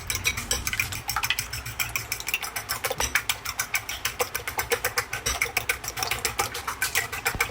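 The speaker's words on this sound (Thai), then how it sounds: "จากนั้นเราก็ตีให้ไข่และส่วนผสมเข้ากันครับ" Eggs beaten with lime juice, fish sauce and seasoning powder in a bowl, a rapid steady rhythm of whisk clicks against the bowl, close and fairly quiet, with no speech.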